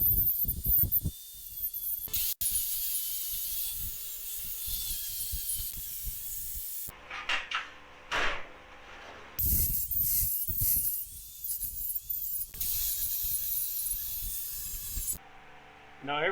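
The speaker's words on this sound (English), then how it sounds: "I'll just cut those out with cutoff wheel." A cutoff wheel grinds through steel brackets on a swing-out tire carrier for a Dodge Ram, in long, loud, hissing cutting passes broken by short pauses, with faint low thumps underneath.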